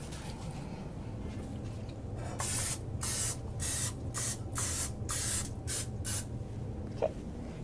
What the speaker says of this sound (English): You just want to spray them pretty well with Pam or some kind of cooking spray